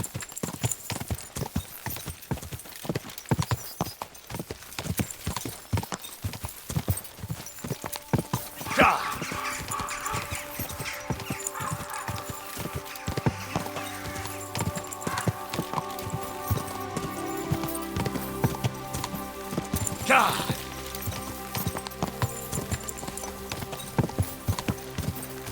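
Horse hooves clip-clop in a quick steady rhythm in Kingdom Come: Deliverance II, then slow, with talking and a low background tone layered over the hoofbeats.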